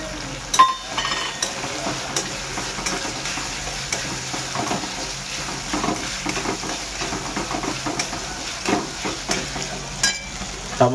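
Chopped tomatoes hit a hot frying pan of chicken liver masala and sizzle steadily, with a spoon stirring and scraping against the pan and occasional metallic clinks, close and continuous throughout.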